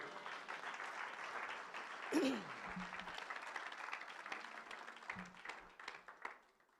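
Church congregation applauding the word of God during a French sermon, steady clapping and cheering through the whole stretch, with a short louder burst early on.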